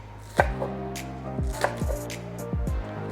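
A knife chops spring onions on a board in a few separate sharp thuds, spaced unevenly and close by, with no talking.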